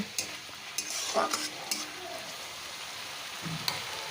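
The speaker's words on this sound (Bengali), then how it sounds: "টমেটোটা বেশ ভালো ভাজা হয়ে গেছে দেখো তেল রিডিউস হওয়া শুরু হয়ে গেছে" Chopped tomato fries in oil in a pan while being stirred. A soft, steady sizzle sits under occasional scraping and clinking stir strokes, fairly quiet and close.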